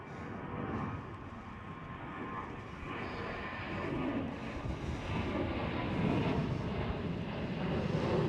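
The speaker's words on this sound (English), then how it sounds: "Transavia 737" A Transavia Boeing 737 at Amsterdam Schiphol gives a soft, continuous engine rumble that builds gently toward the end, distant and fairly faint.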